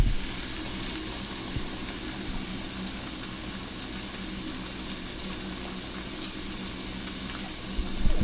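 BBQ pork chops fry on a stovetop in a continuous sizzle with occasional small pops and spits, steady and fairly close throughout.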